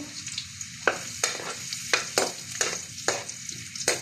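Chopped ginger sizzles steadily in oil in a pan, with a series of sharp scraping stir strokes roughly every half second over a constant hiss, close up and with no talking.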